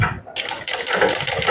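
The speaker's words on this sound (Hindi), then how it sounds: "यहाँ पे सिलाई को पक्का कर लेंगे" A sewing machine stitches a kurti seam made from an old sari, with a steady close mechanical whir and rapid needle chatter running almost throughout, broken by one brief pause near the start.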